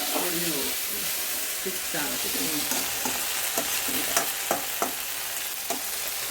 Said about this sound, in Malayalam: ഉള്ളിയൊക്കെ മൂക്കാനായിട്ട് ഉപ്പ് ചേർത്ത് മൂപ്പിക്കണം